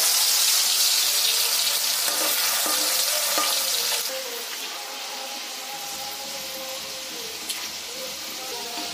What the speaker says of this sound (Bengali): তেলটা কিন্তু গরম হয়ে গেছে। এতে অল্প অল্প করে ডাল দিয়ে দিতে হবে।